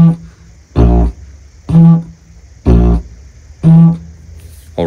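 Didgeridoo played as a simple beginner rhythm without exaggerated breathing: four evenly spaced bursts of droning tone, each separated by short quiet gaps, loud and close with no talking.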